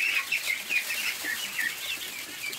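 Small ducks scurrying about indoors, giving a run of high, nasal quacks and peeps that repeat rapidly through the whole moment, close and fairly loud, with no talking.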